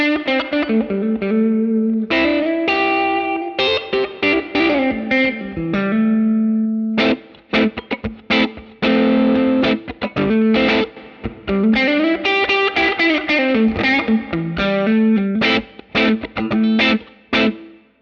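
Distorted electric guitar played through a Line 6 Helix, with phrases and sustained chords swelling into reverb tails switched in by footswitch; steady, fairly loud playing with short gaps between phrases and no voices.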